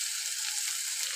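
Chopped potatoes fry in hot oil in a pan, a close, steady sizzling hiss that carries unbroken through the short moment without other sounds.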